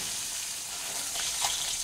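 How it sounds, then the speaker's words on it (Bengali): Small young koi fish fry lightly in hot oil in a pan while being turned, making a steady close sizzle and hiss that rises slightly near the end. "মাছগুলোকে উল্টে পাল্টে আমি হালকা করে ভেজে নিচ্ছি।"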